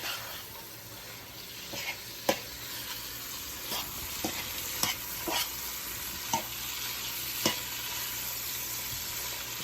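Oxtail pieces sear in a hot pan, a steady sizzle running the whole time and punctuated by several sharp clicks and scrapes as they are shifted. Close and moderately quiet, with no talking.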